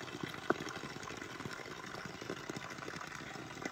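Water trickles from a small spring spout, a faint steady running flow with a few soft splashes, heard alone at low level.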